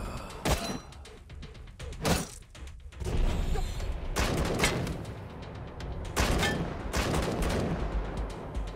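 Turrets firing in the video game Wasteland 3, sharp broadband bursts at irregular intervals, some isolated shots and some sustained volleys, loud and close amid a busy battle din with no talking.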